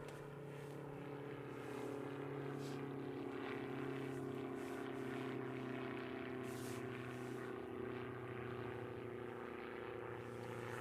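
A propeller aircraft doing a go-around at Gloucestershire Airport drones steadily for the whole stretch, a continuous low engine hum at a distance with wind buffeting on top.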